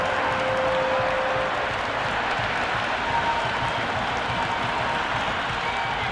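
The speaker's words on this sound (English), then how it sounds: "The crowd are loving every minute of this match" A stadium crowd applauds and cheers steadily in the cricket video game Cricket 26 during a PSL final between Hyderabad Kingsmen and Peshawar Zalmi, a dense, even roar of clapping that holds throughout.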